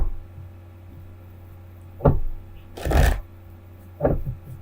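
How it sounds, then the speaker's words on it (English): Tarot cards are pulled up and shuffled on a table in three quick, close bursts of riffling, spaced about a second apart over a low steady hum, with no talking. "Just pull up all the cards here."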